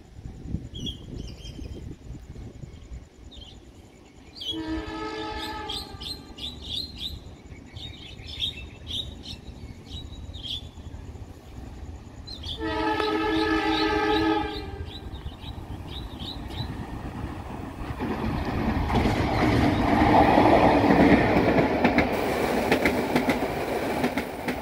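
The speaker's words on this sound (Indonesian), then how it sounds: "KA Serayu dari Pasar Senen menuju Purwokerto bersiap melintas." A KA Serayu passenger train from Pasar Senen to Purwokerto blows two loud horn blasts, then rumbles past with a building roar of wheels on rails while birds chirp in the background.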